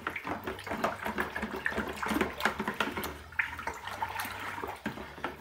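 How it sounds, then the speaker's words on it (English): Yeast nutrient being stirred into stewed rhubarb wine must, giving a steady run of sloshing, swirling liquid sounds with small splashes and clinks, close and moderately loud throughout, with no talking. "And then we give this a little bit of a stir in."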